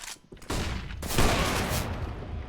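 Bursts of Negev machine gun fire in a tactical shooter match, a short volley followed by a long sustained loud roar of rapid gunfire with other shots layered in.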